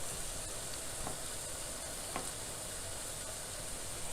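Vegetables for a coconut primavera penne sizzle steadily in a hot pan, a constant, fairly quiet frying hiss with a couple of faint stir clicks and no talking.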